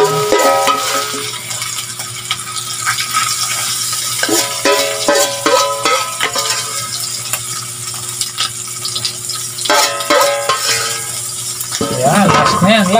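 Boneless dilis anchovies, the last batch, fry in hot oil with a steady sizzle throughout, broken by occasional clatter of stirring and scraping in the pan, loud and close.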